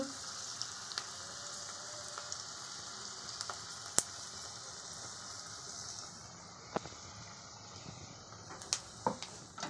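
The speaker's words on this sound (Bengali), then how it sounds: "এইভাবে ডুবিয়ে ডুবিয়ে একটা করে ফ্রাই করে নিতে হবে" Snacks dipped in batter are deep-fried one at a time in hot oil, giving a steady soft sizzle with occasional sharp pops and light clinks of a utensil, fairly quiet and without talk.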